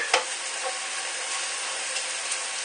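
Bacon fries in a pan over medium to medium-high heat, giving a steady, close sizzling hiss throughout with a few faint clicks as the strips are turned.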